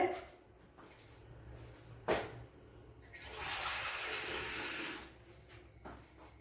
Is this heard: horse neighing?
no